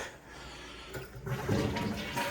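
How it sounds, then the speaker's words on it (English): A toilet flushing in an upstairs bathroom, beginning with a soft click and building into a loud, rushing swirl of water that carries on to the end. "Flush the toilet."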